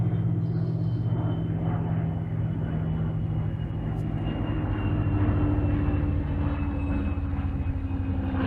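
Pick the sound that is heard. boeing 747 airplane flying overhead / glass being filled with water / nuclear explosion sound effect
boeing 747 airplane flying overhead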